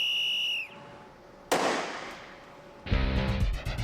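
A shipboard whistle sounds a short tone, then a modified M14 rifle fires a shot-line projectile toward another ship at sea, giving two sharp, loud cracks with a brief echoing tail.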